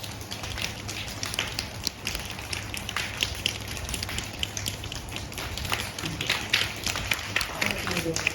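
Many people tap their fingers together in a dense, continuous patter that imitates falling rain, with a murmur of voices underneath.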